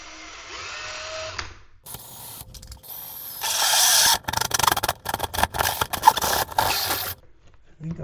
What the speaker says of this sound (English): get that drill bit lined up in the center of the hole and get started slowly